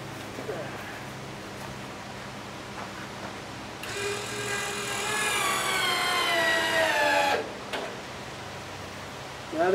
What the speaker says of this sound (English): I'm going to go ahead and run the flap motor up and down from zero down to 30 degrees and then back up again